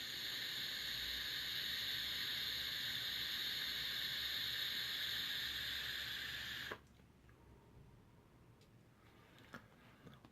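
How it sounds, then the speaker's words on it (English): A long drag on a vape fitted with a Vaporesso ceramic coil at 35 watts gives a steady, close airy sizzle lasting about seven seconds, then cuts off to near quiet with a few faint clicks. "So I'm gonna take a little longer drag and see if it tends to get dry or whatnot."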